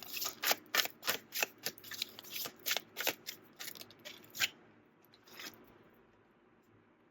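Tarot cards being shuffled by hand, a quick run of crisp riffling bursts for several seconds that then stop, leaving near silence.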